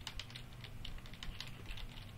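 Faint, rapid clicking from the ceiling in the horror game Spooky's House of Jump Scares, a quiet run of small, irregular taps with no talk.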